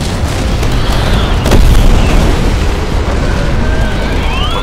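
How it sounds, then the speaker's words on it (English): A reactor core detonation in the video game Titanfall lands as a loud, sustained explosive roar that swells briefly near the middle and then rumbles on with crackling debris, without any voices. "Core detonation in 5, 4, 3, 2,"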